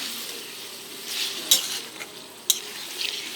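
Mutton for a banana-flower curry being stir-fried in oil, a continuous sizzle punctuated by two sharp clinks of a utensil against the pan and softer scraping stirs.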